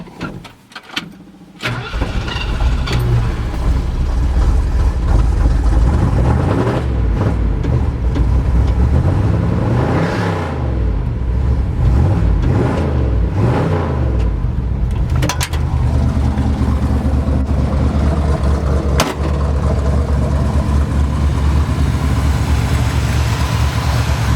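A 1977 Ford F-250 Highboy pickup engine cranks and catches, then settles into a loud, steady idle with a rough, throbbing rumble, revving briefly a few times.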